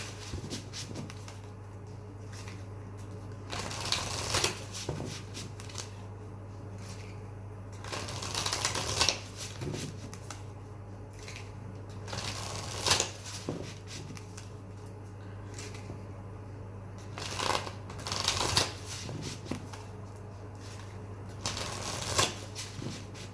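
Druid Craft tarot cards riffled and shuffled by hand in repeated bursts of crisp flapping and shuffling, close and fairly quiet, with pauses between rounds and a low steady hum underneath.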